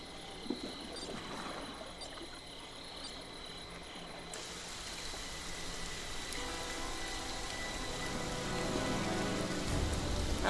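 Video-game rain falls steadily as a dense hiss that grows heavier and louder toward the end, with no voices.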